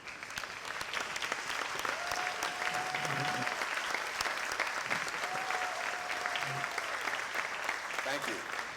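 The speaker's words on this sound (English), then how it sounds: "can we recognize them with our applause?" Steady, full applause from a gala dinner crowd at a school benefit, honoring past medal recipients as they stand; continuous dense clapping throughout with a faint tonal hum and murmur of voices beneath.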